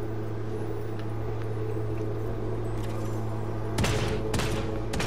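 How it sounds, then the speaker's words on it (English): Bursts of gunfire in the Realm Royale battle royale game, several rapid shots clustered near the end over a steady droning background hum, moderately loud. "Oh, I hear shooting"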